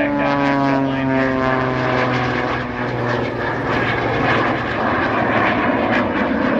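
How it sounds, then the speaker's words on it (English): Red Arrow sports jet accelerating low past airshow center at the Wings Over Wausau festival: a loud, continuous engine roar with a sustained droning whine that holds steady throughout. "as we watch him bring that airplane right back down onto the deck, he accelerates out here off of airshow center"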